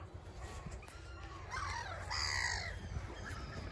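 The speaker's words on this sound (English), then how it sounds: "Oh, the seagulls are getting it." Seagulls squawking over bread in a park, several harsh calls rising in the middle and fading, fairly faint against outdoor background noise.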